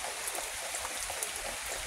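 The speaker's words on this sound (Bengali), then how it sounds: "বৃষ্টি পড়ছে খুব" Heavy rain falls steadily outdoors in bad weather, a dense, even hiss of drops and patter filling the whole clip with no pauses and no voices.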